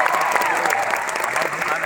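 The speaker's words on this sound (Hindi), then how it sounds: "तालियां" A festival audience at Bharat Mandapam applauds in a loud, continuous wash of clapping throughout this short moment.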